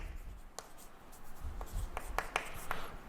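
A pen or marker writes a chemical name on a board or paper, giving soft, scattered scratches and taps at close range in an otherwise quiet room.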